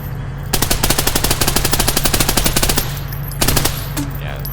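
A submachine gun in a video game fires a long rapid automatic burst of evenly spaced loud shots, then a short second burst, over a steady low game hum, with no talking.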